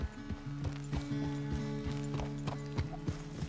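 Horse hooves clip-clop in a steady walking rhythm in Red Dead Redemption 2, clear and close, over a low sustained musical drone.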